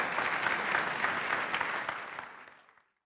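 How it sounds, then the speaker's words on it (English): An audience gives a round of applause for two volunteers at a live mental-math show, a full burst of clapping that holds steady before tapering off and fading to silence near the end. "Let's give Brian and Stephanie a nice round of applause."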